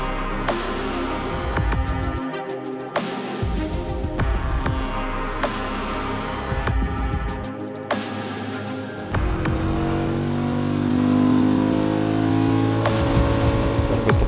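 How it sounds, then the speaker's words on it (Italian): A Ducati V4 Granturismo motorcycle engine running and revving, a steady throaty drone with repeated throttle blips, then climbing into a longer rising rev, close and continuous. "È un ordine di accensione che regala una timbrica che ricorda un bicilindrico, ma è anche molto sportivo e è diventato molto distintivo"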